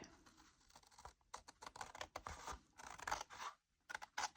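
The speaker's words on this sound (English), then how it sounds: "take our scissors and cut right along the edge" Scissors snip and scrape steadily through old Christmas card stock, trimming along the edge, a quick run of crisp cuts and rustles, close and quiet with no talking.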